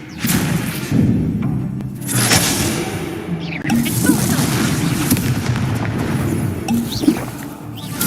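Spell blasts and explosions in the Hogwarts Legacy video game, a dense run of booming impacts and whooshing bursts, loud and continuous, several sharp blasts standing out over a rumbling background.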